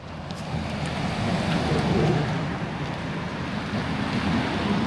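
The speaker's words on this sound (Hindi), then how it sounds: "बारिश तेज हो रही है धीरे धीरे" Steady rain hisses all around a city street walk in Stockholm, a dense, continuous wash of noise that swells a little midway as the rain gets heavier.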